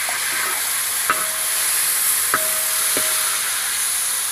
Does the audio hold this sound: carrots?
yes